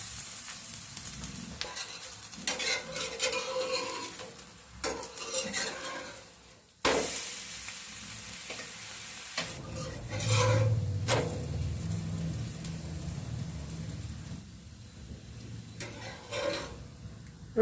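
Rice flour roti frying in oil on a pan, a steady soft sizzle joined by scraping and stirring of a spatula on the metal, with a brief louder burst of crackle as fresh oil goes in partway through.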